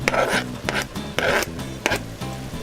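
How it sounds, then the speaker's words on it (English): Chunky chopped onions and peppers tumble into a pot of chili, several close, rough scraping and thudding bursts in an uneven rhythm over a steady low hum. "And then I'm just going to throw in our onions."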